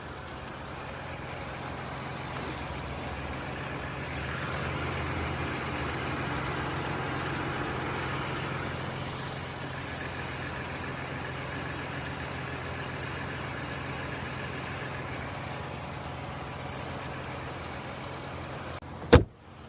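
Car engine idling steadily after a K-Seal head gasket repair, a continuous low rumble with faint knocking vibration running for most of the stretch, then a brief sharp clunk near the end.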